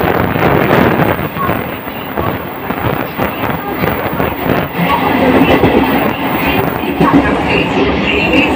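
A train runs on rails near Bandel in Hooghly, with a loud, continuous rumble and rattle of wagons heard from inside, plus wind buffeting the microphone and some indistinct voices underneath.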